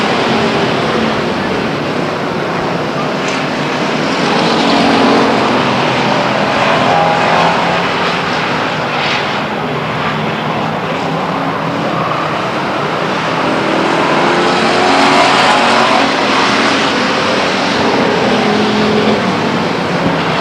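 Race cars circling the oval at Stockton 99 Speedway make a steady, continuous engine roar heard from the stands, swelling and easing slightly as the field passes.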